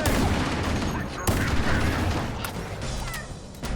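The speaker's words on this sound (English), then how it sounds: "We're taking fire!" Heavy gunfire from a firefight in the Halo campaign rattles continuously in dense overlapping volleys with a sharp impact or blast near the start, loud and close, with voices shouting amid the shooting.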